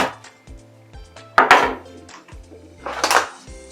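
A bowl being picked up and set down in a kitchen while homemade lip balm is made, with two louder clattering knocks and scrapes over a low steady hum, close by and without speech.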